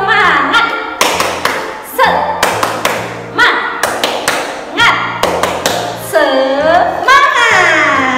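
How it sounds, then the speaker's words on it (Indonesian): Children and a teacher in a kindergarten class perform a rhythmic spirit clap, with loud patterned bursts of claps and thumps alternating with chanted voices. "yuk kita tepuk semangat dulu bersama-sama yuk"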